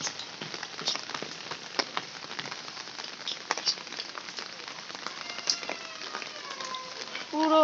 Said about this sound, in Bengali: পেয়ারাগুলো কত সুন্দর হয়ে আছে আর বৃষ্টি পড়ছে দেখো